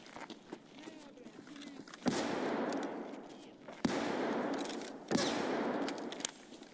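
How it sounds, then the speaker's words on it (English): Bursts of enemy scav gunfire in Escape from Tarkov crack out sharply at intervals, each followed by a rushing noisy stretch, with quieter rustling movement between the volleys. "He's shooting at me."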